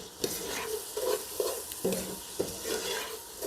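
A spoon stirs onion and garlic sautéing in a pot, giving rhythmic scraping strokes about every half second over a continuous soft sizzle, heard up close with no talking.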